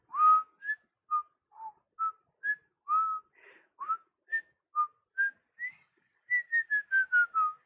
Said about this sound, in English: I cannot whistle in tune.